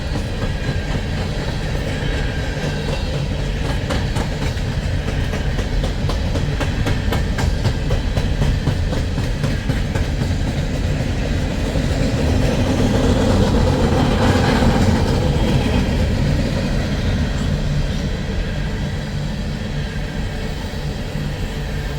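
A train heading north toward Pacific Junction rumbles past close by, steady heavy rolling with rhythmic clicking of wheels over rail joints, loud throughout and swelling briefly midway.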